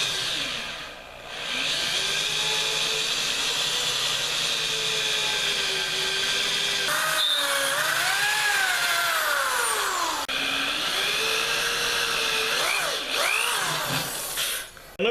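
A handheld drill bores holes into a heavy-duty shop-made vise stand, its loud motor whine steady, then bending and wavering in pitch as the bit loads up, with brief dips between bursts.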